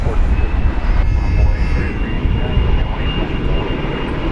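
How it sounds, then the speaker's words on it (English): A Boeing 787-9 Dreamliner taxiing across Dallas Fort Worth Airport toward the American Airlines hangar area at night, a loud, steady jet engine roar with wind rumble, heard under a person talking. "as you look at a Dreamliner just crossing over to the American Airlines hangar area"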